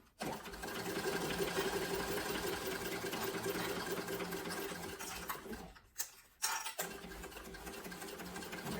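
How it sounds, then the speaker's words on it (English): A sewing machine stitches a sling bag, running in a steady close mechanical whir, with brief pauses and restarts near the end. "Because that's the only way your sewing machine sews."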